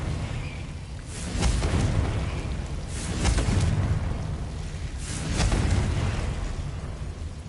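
Confringo fire spell explosions in the video game Hogwarts Legacy, three deep rolling booms about two seconds apart, loud and close, each swelling and fading into a rumbling tail.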